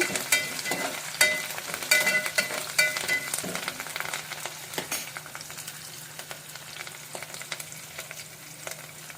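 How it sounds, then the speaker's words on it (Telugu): Curry leaves crackle and spit in hot oil while making ridge gourd dal, a dense sizzle with sharp pops clustered early and thinning out toward the end, close and fairly loud. "కరివేపాకు కూడా మంచిగా వేసాము కదా. ఇలా చిట్పట్టైన తర్వాత"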